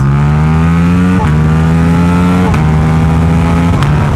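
A Ducati Diavel V4 motorcycle accelerates hard in second gear, its loud, close engine note rising steadily in pitch, broken by three sharp gear-change dips, with no voices heard.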